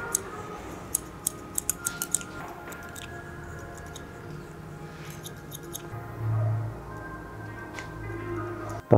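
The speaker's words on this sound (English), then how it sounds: "I love using these scissors." Scissors snip at hair during an undercut haircut in quick, light clicks, scattered irregularly across a quiet room with a low background hum.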